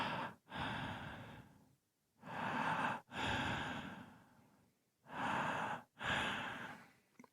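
A voice imitates eerie, heavy breathing in the dark: three pairs of long, loud, breathy rasps, each sharp inhale followed by a drawn-out exhale, with brief silences between and no speech.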